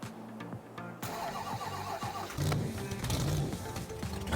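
A monster truck engine in Farming Simulator 22 cranks and catches, then settles into a loud, continuous rumbling idle that swells and rises in pitch over a few seconds, heard up close with no talking.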